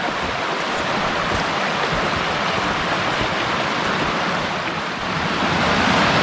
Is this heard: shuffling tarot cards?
no